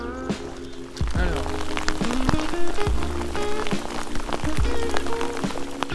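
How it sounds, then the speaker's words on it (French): Sudden heavy rain pours down over a marsh in Brittany, dense drops drumming loudly on nearby surfaces in a continuous downpour, with a voice speaking beneath the rain. "Il fait super beau et d'un coup tu tapes une giga pluie."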